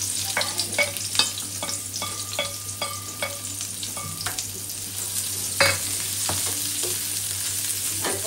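Onion and garlic fry in a little oil for a red amaranth dish, a steady sizzle broken by repeated spatula scrapes and taps against the pan, with a constant low hum underneath.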